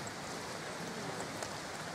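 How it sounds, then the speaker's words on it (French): Steady rain falls at the Wat Eo Sinsai temple in Laos near the Mekong, a soft, even hiss of drops throughout with no voices. "maintenant, toujours sous la pluie, évidemment."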